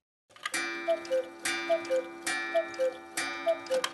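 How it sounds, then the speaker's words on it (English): Handcrafted cuckoo clock clockwork, a mechanism whirring in three or four repeating cycles, each with a sharp strike followed by paired ringing tones, close and clear. "Clockwork brings the cuckoo clock to life."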